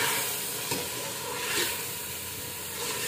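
Black chickpeas frying in a masala for channa pulao, a loud continuous hiss and sizzle close by with soft scraping strokes of stirring, no speech.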